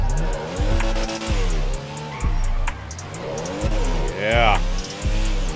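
A Comet S2 Cabrio sports car's engine in a video game revs up and down through repeated gear shifts, with a brief tire squeal, while a voice talks over it.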